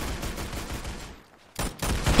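Rapid gunfire from the Roblox shooter game Arsenal, a dense stream of shots that stops briefly and then resumes loud and close.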